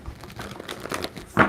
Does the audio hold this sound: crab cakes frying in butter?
no